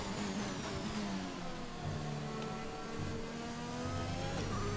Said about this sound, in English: We've got three cars trying to overtake me here.